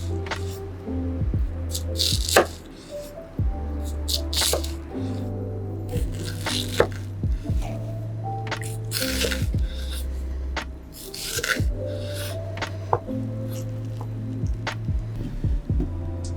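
A chef's knife slicing onions on a cutting board in Japanese style, with irregular crisp cuts and taps heard close, set over steady background music.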